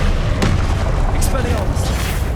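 A Confringo blast spell in Hogwarts Legacy on PS5 Pro bursts with a loud, heavy boom, followed by deep rumbling and crackle amid constant battle noise.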